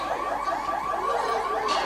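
An alarm goes off with a continuous, wavering electronic wail that holds steady and fairly loud for under two seconds, with no voices.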